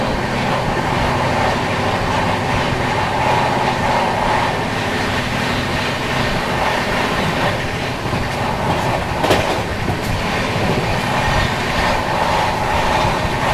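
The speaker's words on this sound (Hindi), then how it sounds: "ओहो, ओवरटेक भी शिप्रा एक्सप्रेस" Shipra Express overtaking at 130 km/h: a steady, loud rush of rail noise with rolling wheel clatter fills the whole stretch, with a brief sharper burst near the end.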